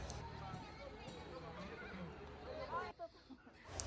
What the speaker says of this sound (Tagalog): Sa wakas nahanap din namin ang mga kabayo.